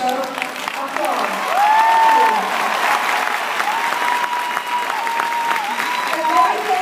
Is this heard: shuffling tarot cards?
no